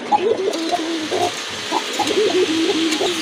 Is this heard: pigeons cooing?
yes